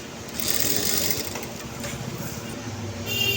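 A domestic sewing machine stitching a folded blouse seam, a rapid steady mechanical rattle that runs close and fairly loud through the whole few seconds, with a brief pause near the end.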